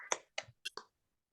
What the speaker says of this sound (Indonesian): Kasih tepuk wow dulu untuk kelompok 1.